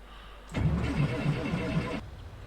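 A Cessna 152 engine cranks and catches in a flight simulator game, a rough rumbling turnover lasting about a second and a half before it cuts off abruptly, loud and close.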